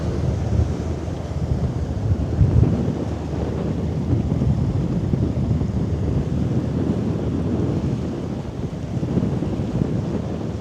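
Wind blowing against an outdoor camera, a steady low roaring rumble of buffeting gusts on the microphone lasting throughout, with no voices.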